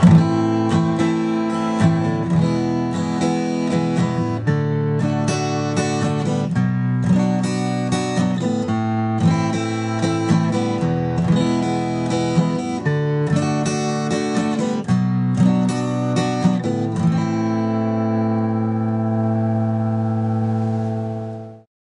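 A guitar strums a sequence of chords through a progression with rhythmic attacks, ending on a long sustained chord that rings out and fades. No talking.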